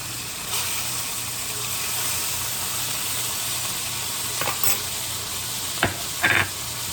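Onions fry and sizzle steadily in a pan while a kitchen exhaust fan hums underneath, with a few brief stirring clinks and scrapes near the end.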